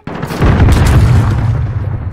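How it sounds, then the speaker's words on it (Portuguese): A suicide bomber's explosion in a shooter game, one sudden loud boom with deep rumbling that holds and slowly decays over about two seconds, heard alone. "Olha, isto era uma bomba humana!"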